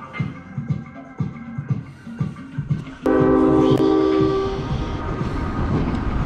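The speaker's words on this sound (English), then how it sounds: "I'm actually seeing the train on Griffiss." Train passing near Griffiss Airport and Business Park: rumbling rail noise with rhythmic clatter, then a loud sustained horn blast that holds steady over the continuing roar of the passing cars.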